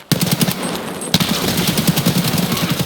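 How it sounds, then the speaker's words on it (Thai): Gunfire in the Escape From Tarkov video game, loud rapid repeated shots in a steady rhythm, broken by a brief pause before the firing resumes, with no talk. "มีคนยิงพี่ ใช่ลูกซอง"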